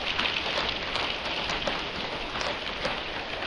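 Heavy typhoon rain pours down steadily, a dense hiss of drops drumming on surfaces with no voices.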